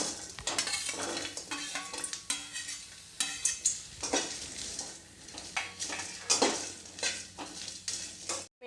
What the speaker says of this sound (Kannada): ಮೆಣಸಿನ್ಕಾಯಿ ಹುರಿಯುವಾಗ ಸ್ವಲ್ಪ ಎಣ್ಣೆ ಹಾಕ್ಕೊಂಡು ಹುರ್ಕೊಳ್ಳೋನು.